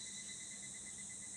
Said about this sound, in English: the crickets are so loud